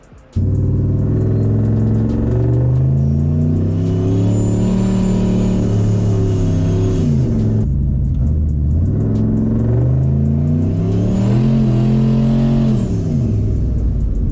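A turbocharged 6.0 GMC Sierra pickup drives and accelerates, its engine loud and close, rising through two long revving pulls with a gear change between them and a faint turbo whistle on top.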